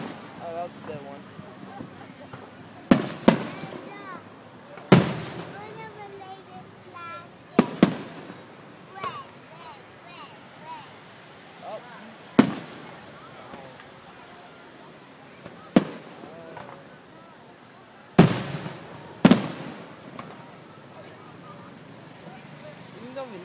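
July 4th fireworks burst in a series of sharp booms spaced a few seconds apart, some in quick pairs, echoing across open air while onlookers talk quietly between the blasts.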